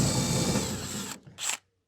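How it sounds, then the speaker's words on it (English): Power drill boring out rivets on a van's brackets during a camper conversion: a steady, close, high whirring run, a brief stop, then one short burst before it cuts to silence. "all I'm going to do is drill out these rivets"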